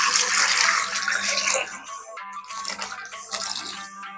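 Warm water is poured over pumpkin stems and greens in a bowl, a close splashing gush that tapers off and returns in a few shorter bursts, with no talking.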